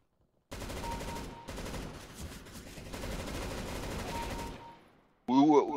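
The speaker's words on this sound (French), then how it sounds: "Et après je vais tirer." Bursts of rapid automatic gunfire from the game Counter-Strike: Global Offensive (CSGO), sustained loud volleys with a brief gap, then a short electronic tone at the end.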